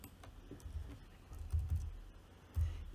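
Keys clatter softly on a computer keyboard while code is typed, a quiet uneven patter of taps with a few heavier strokes, close and unaccompanied by speech.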